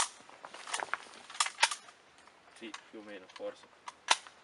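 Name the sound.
Albanian Tipi 56-1 SKS rifle shots at metal gongs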